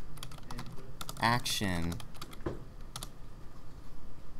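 Computer keyboard typing: quick scattered key clicks run through the clip, with a brief burst of speech near the middle.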